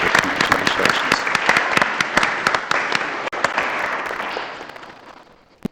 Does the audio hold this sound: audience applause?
yes